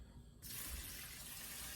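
Water is poured into white rice in a steamer, starting suddenly as a steady, fairly loud rushing splash that continues without a break.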